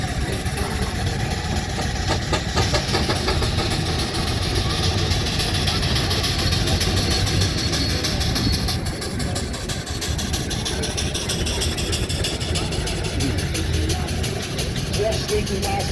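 An engine runs steadily at the Stoke Row Rally, a continuous mechanical chug over a long stretch, with a voice talking over it in places.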